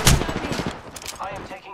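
Apex Legends video game gunfire, a short rapid burst of shots up close, loud at first then trailing off within under two seconds.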